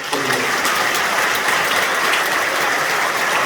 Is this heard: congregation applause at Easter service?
yes